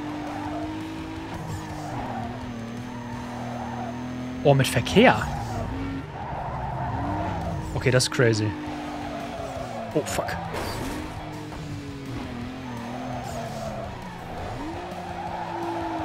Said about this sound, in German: Das sind Driftrennen hier alles.